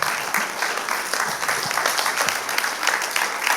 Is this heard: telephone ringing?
no